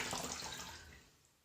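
Clean warm water splashing and running during a natural DIY skincare face rinse, a close, brief wash of water that fades over about a second and a half with no talking.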